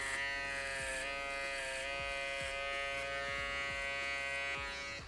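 An electric shaver buzzes steadily and close by as a beginner barber runs it over hair during a V-fade haircut, with slight repeated shifts in tone as it passes through the hair.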